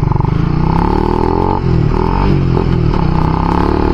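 A Honda Rider FI motorcycle engine runs with a rhythmic mechanical ticking and clatter from a worn cam chain tensioner, close and loud, with a brief dip in the steady drone partway through.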